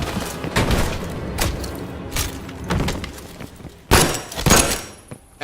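A door being forced open in Call of Duty: Black Ops Cold War, with a series of heavy thumps and knocks, then a sharp cracking impact followed by a quick rattling burst, close and loud.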